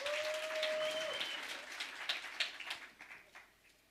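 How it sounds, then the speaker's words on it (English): Audience applause at a youth month commemoration event honouring a writer, a dense clapping wash that swells early and then thins into scattered louder claps as it fades, with a brief high tone at the start. "A round of applause,"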